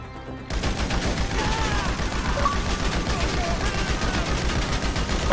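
Rapid, loud gunfire rattles through a GTA Online survival match, dense automatic bursts with overlapping shots in a steady rhythm, close and continuous, with a voice talking over it.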